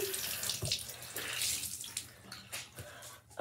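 Water pours from a bathroom tap into a sink during face washing, a steady close hiss with splashes and gurgles that shift as hands move through the stream, with no talking.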